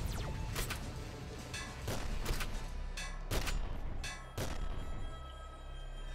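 Minigun fire in the video game Nuclear Throne: faint, muffled bursts of rapid gunfire with a few sharp blasts standing out over a dense, noisy game soundscape.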